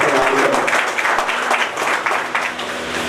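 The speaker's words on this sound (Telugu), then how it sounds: "జిల్లా కలెక్టర్ శ్రీ రాజీవ్ గాంధీ హనుమంతు ఐఏఎస్ గారికి గట్టిగా చప్పట్లతో స్వాగతం" Loud applause from an audience welcoming a district collector at an office event, with dense clapping that swells and dips slightly and goes on without a pause.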